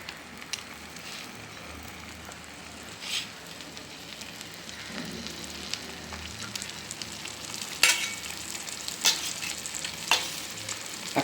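Bread sandwich frying in butter on a hot pan, a steady soft sizzle and crackle with scattered brighter pops and spits, no talking.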